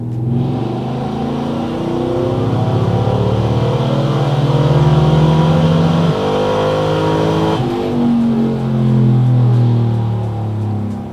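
A Texas Speed Stage 4 Chevrolet Silverado with a 5.3 V8 makes a loud, sustained pull on a dyno, its engine note climbing steadily through the revs, dropping briefly at a shift, then rising again through the next gear.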